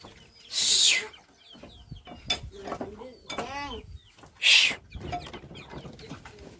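Chickens cluck in short, close bursts at a rural lunch spot, broken by a few sharp, loud noises and some faint background sounds.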